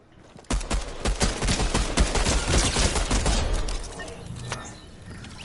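Rapid bursts of gunfire from a weapon in Fortnite, sharp shots fired in quick succession at close range, loud and dense for several seconds before thinning into scattered pops.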